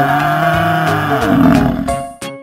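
A lion roars loudly and close, one long rumbling, sustained roar that fades out near the end with no voices over it.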